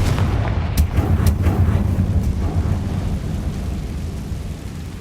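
The Confringo fire spell explodes in the Hogwarts Legacy video game, a deep rumbling blast with a few sharp cracks early on, then a sustained low roar that slowly fades.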